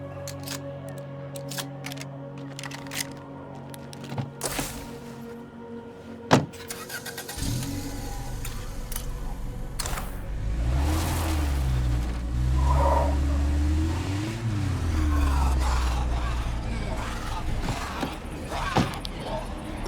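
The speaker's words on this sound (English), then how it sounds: "The noise from the car attracted all of them to us." A car engine driving in the zombie survival video game State of Decay 2 starts after about seven seconds and hums loudly and steadily with repeated rising and falling revs, following a few scattered clicks and knocks.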